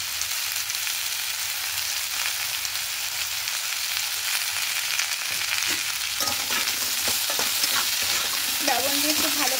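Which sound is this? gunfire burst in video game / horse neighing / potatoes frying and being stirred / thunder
potatoes frying and being stirred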